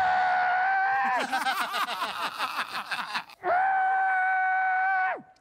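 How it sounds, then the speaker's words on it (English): A man screams with a towel in his mouth while doing sit-ups, giving two long, loud muffled howls with strained, sobbing breaks between them. "And scream on every sit-up."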